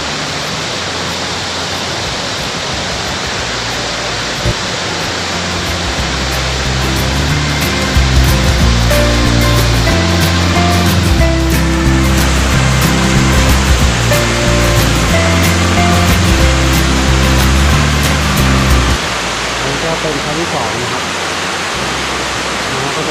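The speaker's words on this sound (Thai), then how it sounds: "อันนี้ก็เป็นน้ำตกชั้นที่2นะครับ" Second tier of a mountain waterfall at Mae Kampong village in northern Thailand, its steady broadband roar of falling water filling the scene, with a low rumble swelling in the middle and no voices over it.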